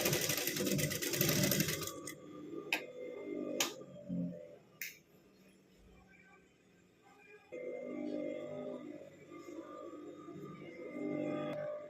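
A beginner's sewing machine runs in short bursts of rapid mechanical stitching, separated by a few sharp clicks and a quiet pause, fairly close and clear with no voice over it.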